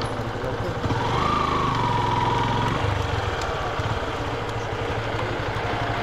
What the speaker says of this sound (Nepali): बाइक जान्छ तल जाँदो रहेछ त